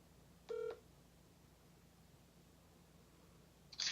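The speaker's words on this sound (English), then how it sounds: "now we are calling caller number 4" A telephone is dialed to reach a caller on a call-in podcast. One short touch-tone beep sounds clearly over a quiet hiss, and a brief second tone clips in right at the end.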